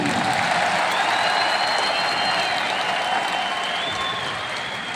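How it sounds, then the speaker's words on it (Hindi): An audience at a Hindi-language talk claps steadily, a dense, even wash of applause that holds at a moderate level for the whole five seconds with no speech over it. "इस बात के लिए इतनी सी तालियां बहुत कम मानी जाएगी।"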